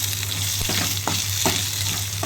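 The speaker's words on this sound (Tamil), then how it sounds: "இதை கொஞ்சம் நல்லா வதக்கி எடுத்துக்கலாம்" Peanuts and green chillies sautéing in a pan for a mint, peanut and tomato chutney, a steady close sizzle broken by a few sharp scraping stirs, with no talking.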